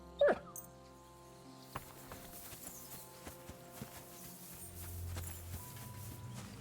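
Dog in the medieval video game Kingdom Come, one short bark at the start, then quiet padding steps and faint hoof-like clops over low game ambience.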